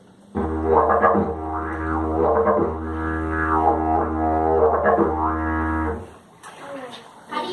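A deep droning didgeridoo with the vocalized syllables "wakataka" shaping its tone into repeating pulses, ending abruptly before a brief, quieter noise.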